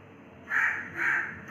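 A crow gives two clear, harsh caws in quick succession, fairly loud and near, over a quiet home kitchen background.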